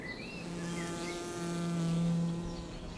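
Wild honey bees foraging on lime tree blossom around a beech tree hum steadily and fairly close, a continuous buzzing drone swelling slightly toward the middle, with faint birdsong high above.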